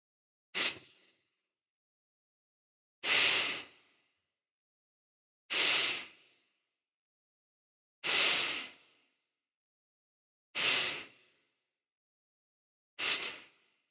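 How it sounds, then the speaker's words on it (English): Bow breathing in a Bandha Pranayama practice, with six forceful, breathy exhalations spaced about two and a half seconds apart, close and loud, with silence between them and no talking. "let's begin with 30 rounds of bow breathing"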